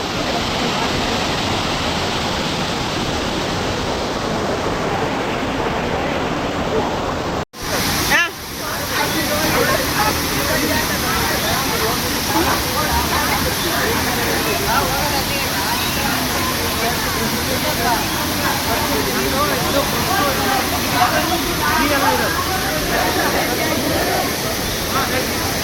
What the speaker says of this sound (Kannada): ನೋಡಿ ಇದೆ ಆಯಿತಾ ಎರ್ಮೈ ಫಾಲ್ಸ್